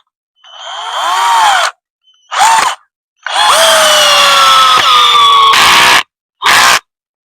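Impact screwdriver fitted with Ingco impact bits driving a long screw, loud bursts of whining motor noise in four separate runs of varying length with short silences between, the pitch dropping as the screw bites.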